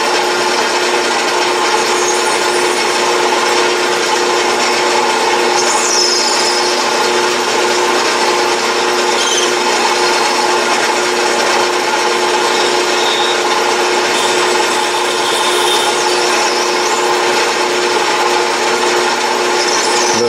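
An Atlas metal lathe turns a ball on a shaft, giving a steady, loud machine hum with a continuous scraping cutting tone and occasional higher squeals, with no talk.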